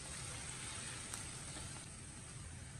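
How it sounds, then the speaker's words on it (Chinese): Scallion, ginger and chili sizzling in plenty of hot oil over high heat in a wok, a steady broadband hiss that holds without pause and with no talk. "然后倒入葱姜小米辣，把油先爆一下香"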